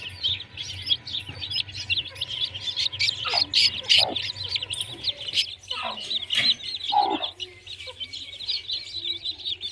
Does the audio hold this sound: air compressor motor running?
no